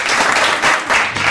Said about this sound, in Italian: Un applauso a Neil